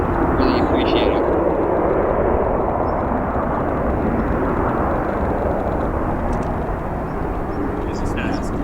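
Steady loud broadband roar of aircraft at O'Hare International Airport in Chicago, a continuous engine rumble filling the whole stretch with no breaks.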